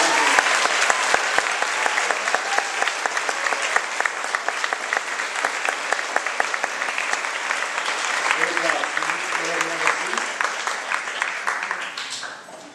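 An elementary school audience in Provo, Utah applauds Silver Award winners, sustained dense clapping from a large crowd that runs steadily for about twelve seconds before fading out at the end.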